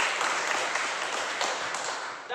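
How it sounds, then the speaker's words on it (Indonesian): A group applauding in a classroom or meeting setting, a soft, steady patter of clapping from several people that continues evenly and then cuts off abruptly. "Oke, bagus, tepuk tangan."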